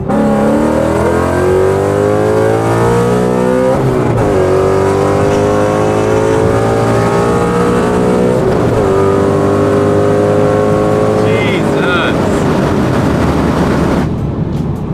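A 2016 Ford Mustang 5.0 with headers, injectors, a tune and a cold air intake accelerates hard, its loud V8 climbing through gears with shifts between long rising pulls, heard from inside the car.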